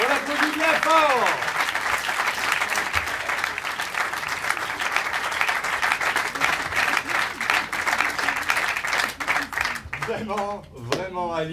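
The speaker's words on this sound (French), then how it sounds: "On applaudit bien fort!" Warm audience applause at an improvised theatre show in Paris, steady and dense throughout, with a host's voice speaking over the clapping at the start and again near the end.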